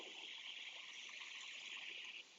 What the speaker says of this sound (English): give it a good water.